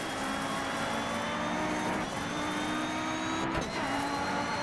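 Rally car engine droning steadily in the racing game Dirt 3, with a sustained mid-level whine and slight shifts in pitch but no distinct gear changes or passes.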